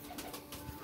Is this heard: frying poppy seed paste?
no